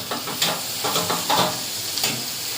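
Small shrimp frying in oil with a cooked-down spice paste, a loud close sizzle with repeated scraping stirs in an uneven rhythm.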